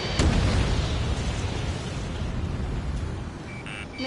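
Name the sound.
explosions and artillery fire in Ace Combat 7 video game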